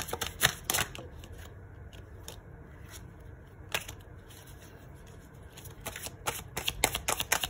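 Tarot cards are shuffled for a reading in quick, crisp riffling bursts, close and distinct, with quieter pauses between handfuls.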